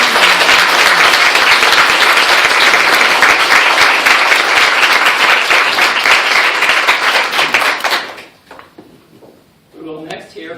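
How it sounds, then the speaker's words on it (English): Audience applause at a bicentennial celebration of a children and family center, loud and sustained dense clapping for about eight seconds, then breaking off into quieter room sounds and a brief voice near the end. "I'd also like to get a round of applause for tomorrow"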